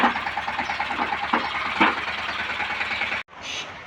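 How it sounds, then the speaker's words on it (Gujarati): A tractor engine runs steadily at a low chugging idle-like drone as it sets off for sowing in a farm field, close by, ending with a brief cut. "મમ્મી જાય છે ટ્રેક્ટર લઈને"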